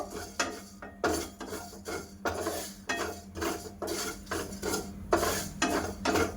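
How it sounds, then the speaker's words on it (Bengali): Whole spices and dried chillies dry roasted in a pan for a homemade Maggi masala mix, stirred with repeated scraping and rattling strokes that come in steady bursts, close and moderately loud, with no talking. "এই গোটা মশলাগুলো আমি একটু ভাজা করে নেব"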